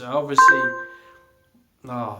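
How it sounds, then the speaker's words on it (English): A short electronic phone beep chimes once between bits of speech, sustained briefly before trailing off into silence. "You have to excuse that beeping."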